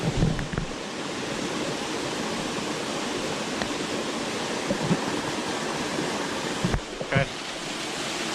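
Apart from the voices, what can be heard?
waterfall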